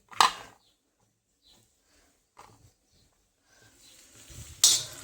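Chopped tomato tipped into onions frying in oil in a kadhai for an okra and aubergine curry, a sharp clatter and sizzle burst at the start, faint scrapes, then another loud sizzling hiss near the end.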